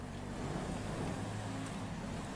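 A steady, droning Kia K5 exhaust rumble in GTA 5 echoes inside a tunnel, continuous and fairly loud, with no talking over it.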